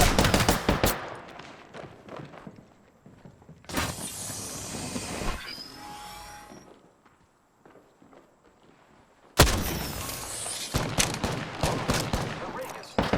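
Video game gunfire comes in rapid automatic bursts, loud and close, separated by quieter stretches with footstep-like movement, then a heavy volley near the end.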